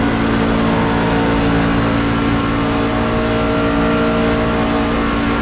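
Racing truck engine in the iRacing Gander Outdoors Truck Series at Daytona, a steady loud drone with sustained harmonic hum throughout, running continuously without talk.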